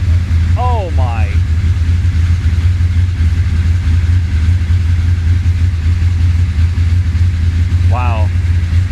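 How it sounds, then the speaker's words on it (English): A 1966 Chevy Impala with a 427 V8 idles on its own with a steady, deep, close rumble throughout, and brief squeaky sounds come in over it near the start and end. "She's idling on her own. Listen to that rumble."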